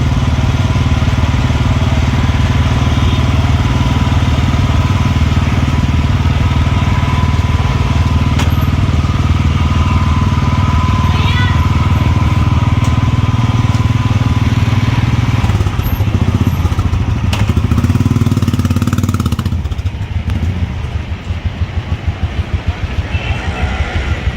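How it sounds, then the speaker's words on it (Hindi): A rented motorcycle's engine runs steadily and close up throughout a test ride near the Atal Tunnel in Manali, Himachal, in snowy mountain conditions. Voices can be heard faintly in the background. "Bike testing."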